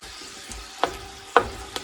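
Spaghetti sauce with sun-dried tomatoes cooking in a pan, a quiet steady sizzle broken by a few sharp stirring scrapes and clinks, close and with no speech.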